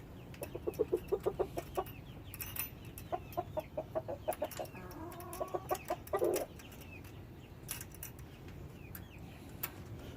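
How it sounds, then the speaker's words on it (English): Chickens cluck in their chicken house, bursts of rapid clucks and short calls repeating over several seconds, fairly close against a quiet background with no talk. "the chickens over there enjoying this up"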